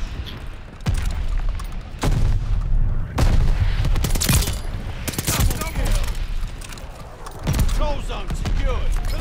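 Rapid bursts of gunfire and heavy booms in Call of Duty: Vanguard multiplayer, loud and dense across the whole stretch, with shouted voices and game callouts mixed underneath.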